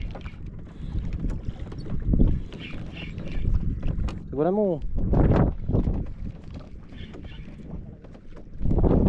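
Wind buffets the microphone outdoors in a steady low rumble, with people talking over it and a brief whistling tone in the middle.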